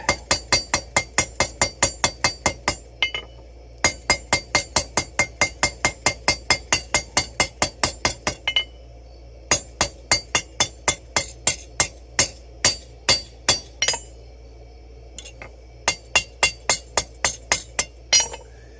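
Hot metal being hammered while forging a wine cork puller: rapid, loud, ringing hammer strikes in quick bursts, with short pauses between runs of blows.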